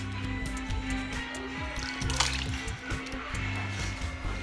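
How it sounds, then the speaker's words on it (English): A can of diced tomatoes poured and sloshing into a pot of ground turkey curry stew, wet plops and liquid splashes with kitchen clatter and some faint voices in the background. "And then we're going to add 1 can of diced tomatoes."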